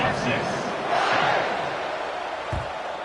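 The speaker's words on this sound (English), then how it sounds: "this crowd is buzzing after that last score" A football stadium crowd buzzes after a touchdown, a loud continuous roar of massed voices with a brief thump near the end.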